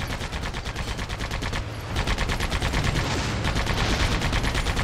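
Rapid, loud weapon fire from the Sand Land video game, with dense repeated bursts of shots running continuously and growing heavier partway through.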